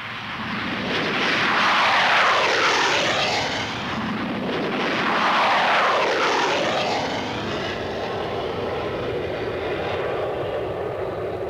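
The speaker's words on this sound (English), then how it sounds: "clear for takeoff, barrier up." An RAAF military jet aircraft takes off, a loud roaring engine surge that swells and fades twice before settling into a sustained broadband rush, with no voices.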